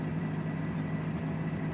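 Idling car engine with a Spica mechanical injection pump and an exhaust pipe riddled with holes, a steady low rumbling drone heard close and continuous, without clear distinct pops.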